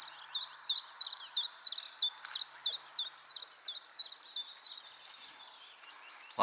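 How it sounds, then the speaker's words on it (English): A bird sings a rapid series of high, repeated chirping phrases on Culloden Battlefield, fairly close and clear over a quiet outdoor background, ending with a brief low thump. "A lot of bird life down here."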